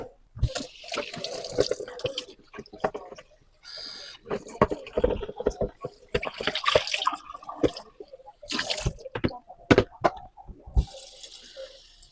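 Water splashes and runs in bursts as a pot is rinsed and scrubbed nearby, with clanks and short pauses between gushes.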